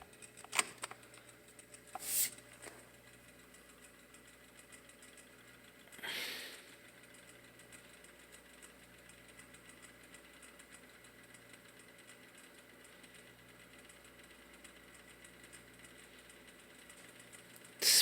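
A vintage Panasonic F-1206 twelve-inch table fan running on its low speed, giving a steady low motor hum with a faint tonal whine, plus a few brief clicks and a soft whoosh early on, heard close and alone.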